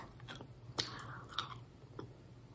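Someone chews a crunchy lime and orange flavored Sri Lankan tea snack, with a few soft, close bites and crunches over a low hum and no talking.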